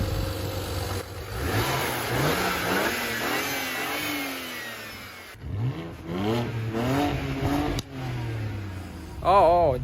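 A BMW 335i N54 engine with rattling turbochargers revs repeatedly, rising and falling with a rough, rattling edge, loud and close, with brief pauses between bursts.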